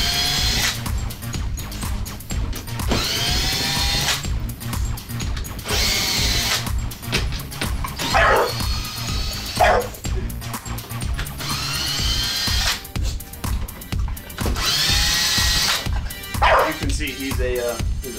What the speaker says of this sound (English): Calm down, it's just my drill.